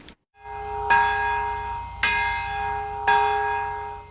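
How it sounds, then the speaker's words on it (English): A large peace bell at the Nagasaki atomic bomb memorial ceremony tolls three times at a slow, even pace, each loud ringing strike sustaining a rich hum that lingers into the next, with no voices. "Nagasaki fell into silent prayers as the peace bell tolled"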